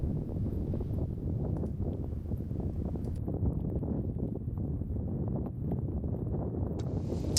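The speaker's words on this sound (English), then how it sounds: "it was a bit windy" Steady wind rumbles and buffets against the microphone on a hill in Glencoe, Scotland, a dense low roar with no pauses and no voices.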